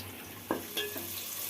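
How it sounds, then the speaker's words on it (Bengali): Chopped tomatoes and onions fry in a pan for chicken masala, a soft steady sizzle with a couple of quick stirring scrapes near the start. "টমেটোটাও লাল লাল করে ভাজা হয়ে গেছে"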